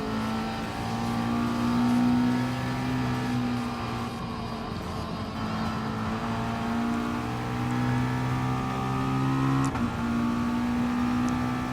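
Race car engines in Gran Turismo Sport during a Manufacturer Series race drone with a steady, layered whine, several cars running together in a train and rising and falling slightly in pitch.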